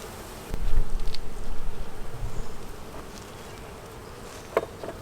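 Honey bees swarm around an open beehive being fed syrup during a hive inspection, making a dense, continuous buzz with a louder swell early on and a brief sharp burst near the end.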